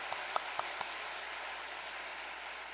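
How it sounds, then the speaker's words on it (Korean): A church congregation at a Korean worship service claps in thanks. A few sharp individual claps sound at the start, then a soft, distant, continuous patter of applause follows at a low level. "감사의 박수를 한번 올려주시기 바랍니다."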